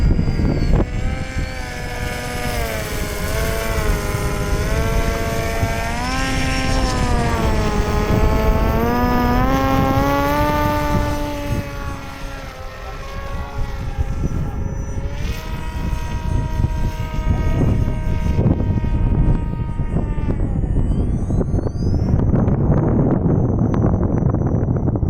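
An RC airplane with SAFE stabilization flies on a windy day, its propeller whine rising and falling in pitch as it passes and banks, fading farther off toward the end while wind rushes underneath.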